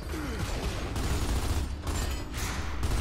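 Dense bursts of rapid video game gunfire from Gears of War 2 crackle continuously at close range, with a few heavier booms punctuating the steady rattle.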